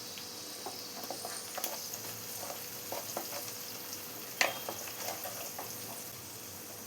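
Garlic in hot oil for mango pickle, with turmeric and chili powders going in, gives a faint, steady low sizzle with occasional soft pops and one sharper crackle midway, no voices.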